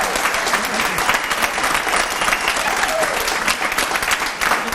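A crowd claps steadily and loudly at an award evening honoring Irish dance in northern New England, the sustained applause filling the room without a break.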